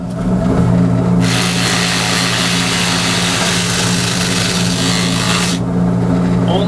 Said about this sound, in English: I'm going to come up right up the center and countersink this hole out.